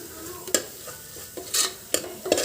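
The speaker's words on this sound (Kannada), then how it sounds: "ಇದನ್ನು ಸ್ವಲ್ಪ ಇದರಲ್ಲೇ ಫ್ರೈ ಮಾಡ್ಕೊತೀನಿ" Masala frying in a pan while being stirred, a low sizzle punctuated by several sharp scraping strokes of a spoon against the pan, close and alone.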